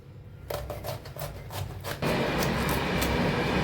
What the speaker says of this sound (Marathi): पत्ता गोबीची सब्जी भाजी बनवणार आहोत तर आपण ह्याला कापून घेऊया